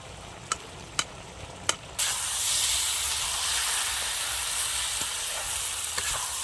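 Water splashed into a pan of small fish (chuno mach) frying for a chorchori sets off a sudden loud burst of sizzling steam after a few sharp clicks, and the hiss keeps going to the end.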